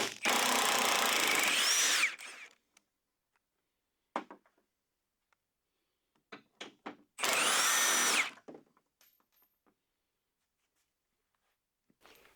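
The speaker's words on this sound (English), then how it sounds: "It's an 18 millimeter, and we're going to hit it with the impact" Impact wrench removing 18 mm front bumper bolts on a 1999–2009 Chevy GMT-800 Silverado: two loud, sustained bursts of about two seconds each, separated by scattered clanks and rattles of handling, all close by.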